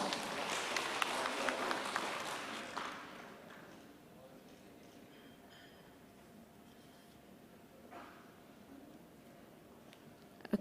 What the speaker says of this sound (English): Okay, please give a warm applause.